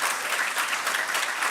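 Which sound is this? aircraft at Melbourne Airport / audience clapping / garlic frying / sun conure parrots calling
audience clapping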